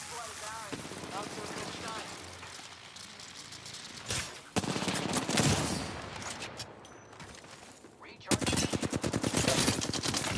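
Rapid automatic gunfire from an Apex Legends match, loud bursts of machine-gun fire in the foreground, pausing briefly then resuming in dense rattling volleys with game speech in the background.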